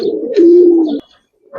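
A Giribaz pigeon at a pigeon farm gives one low, throaty coo, loud and close, that ends abruptly. Nothing else is heard around it.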